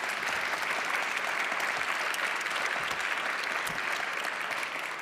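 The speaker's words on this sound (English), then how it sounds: "Please give them a round of applause." Conference audience applauding a panel on space resources regulation, a dense, even roar of clapping that holds steady throughout at moderate distance.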